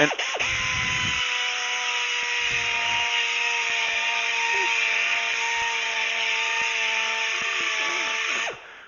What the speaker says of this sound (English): what I'm going to do is I'm going to take my little scrubby polisher